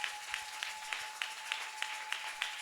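A church congregation applauding in rhythm at a Sunday service, a steady beat of claps about three per second, loud and spread through the hall, with a sustained tone running underneath.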